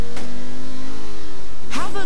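In Saints Row: The Third, a game car's engine roars up in a brief rev near the end, following a softer engine hum and rising loud and close, with background chatter.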